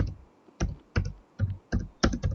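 Keystrokes on a computer keyboard in short clustered bursts of clicks, close and clear, with quiet pauses between bursts and no talking.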